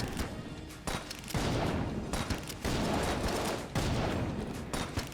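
Flare gun shots in Enter the Gungeon ring out in dense, loud overlapping bursts, with sharp blasts recurring every second or so over a continuous din of game combat.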